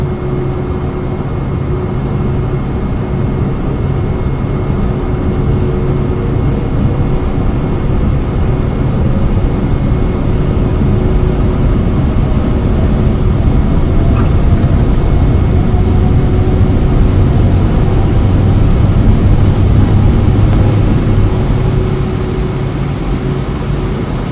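Simulated Vision Jet engine at full takeoff power in Microsoft Flight Simulator, a loud, steady cockpit roar and whine that holds with little change and rises slightly in the middle, with no talking.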